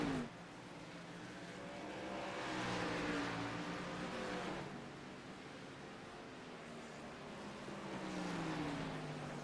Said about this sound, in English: Ryan Workman, only car on the racing surface a lap down